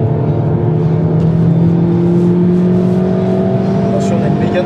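A car accelerates hard down the straight of the Haute Saintonge race circuit, its engine note climbing steadily and loudly across the whole stretch.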